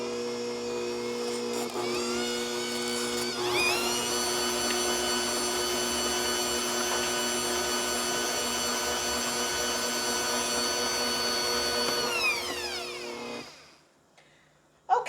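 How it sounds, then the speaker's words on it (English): A Bosch Compact Kitchen Machine 400-watt mixer whirs steadily for about thirteen seconds, its motor pitch shifting as it starts and then winding down before a final click. "am using the Bosch Compact Kitchen Machine, the 400-watt version."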